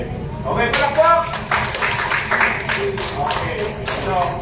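A group of martial arts students clapping together at a karate belt promotion in a mall, a few seconds of brisk clapping mixed with a voice speaking.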